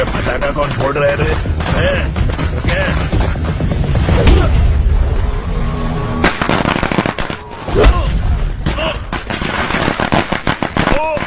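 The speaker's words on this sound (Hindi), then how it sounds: "अरे एरिया में पटाखा कौन फोड़ रहे रे?" Firecrackers bursting somewhere nearby in a residential area, a run of sharp cracks and pops scattered across the stretch, with loud background noise and a voice talking.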